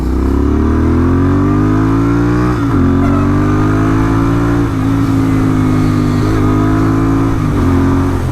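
A Royal Enfield Interceptor 650 with an S&S camshaft drones steadily and loudly up close, its raspy exhaust note shifting pitch a few times as the bike rides along; no voices.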